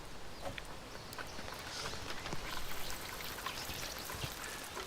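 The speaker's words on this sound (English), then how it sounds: "rain hammers down." Heavy rain falls on an English garden as a steady, dense patter with scattered louder drops, constant and fairly faint throughout without any voices.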